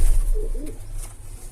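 Pigeons in a coop give a low, soft cooing call up close, with bird rustling and a few faint chirps around it and no talking.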